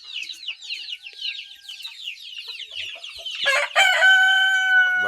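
Australorp chicks peep in rapid high chirps close by, then an adult chicken lets out a loud, drawn-out call that rings over the flock.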